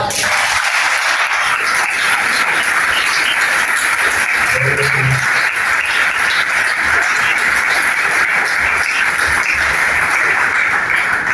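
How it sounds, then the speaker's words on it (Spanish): A church congregation applauds at a worship service, with dense, sustained clapping that fills the space steadily and loudly throughout. "Quisiera que le dieran un aplauso al Señor por la vida."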